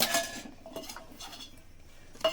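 A spoon stirring green peas into a sandwich filling in a bowl, soft scraping and light clinks of metal against the dish repeating at an uneven pace, close and fairly quiet.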